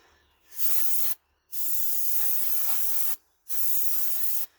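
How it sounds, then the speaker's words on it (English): An aerosol can of TRC brake cleaner sprays in three hissing blasts to degrease the rear brake parts of a Suzuki LT250S. The first burst is short and the two longer ones follow after brief pauses, all close and steady, with no talk. "Make sure we degrease everything with a brake clean here."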